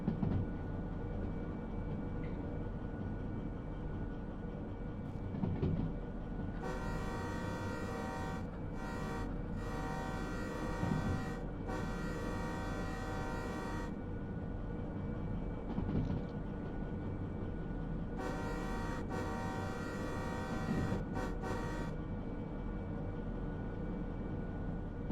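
A train horn in Derail Valley sounds in two long blasts over a constant low rumble of the locomotive, each blast loud and sustained with brief breaks between tones.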